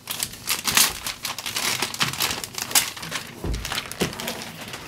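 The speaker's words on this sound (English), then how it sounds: "we pull the pull tab to take off the plastic wrap" Plastic shrink wrap is torn away from an Apple HomePod box by its pull tab, giving a close, steady run of loud crinkling and crackling with a few sharper rips.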